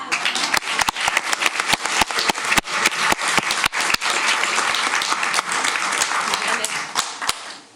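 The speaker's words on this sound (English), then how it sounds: "And one last round of applause for our finalists and our champions." An audience at a school district board meeting gives sustained applause for spelling bee finalists and champions, dense clapping filling the room for several seconds before tapering off at the end.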